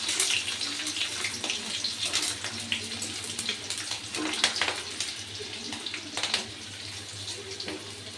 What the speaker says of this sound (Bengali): রসুনটাকে আমি একটু লাল লাল করে ভেজে নেব